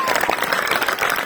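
Audience applause at a Republic Day school function, a brief dense patter of many hands clapping close and steady throughout.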